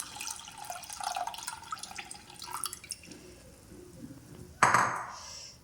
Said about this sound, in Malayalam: അതിലേക്ക് ഞാൻ ഇതാ പുഴിഞ്ഞ് വെച്ച് പുളിവെള്ളം കൂടി ഒഴിച്ച് കൊടുക്കുന്നു.